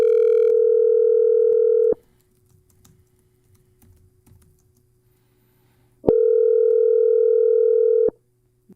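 A phone line's ringback tone while dialing a number, two loud steady two-tone rings about two seconds long, separated by roughly four seconds of near silence with faint line noise.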